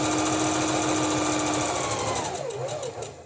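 Home sewing machine stitching fabric shapes runs at a steady, loud mechanical whir with rapid rhythmic needle pulses, then slows and winds down near the end.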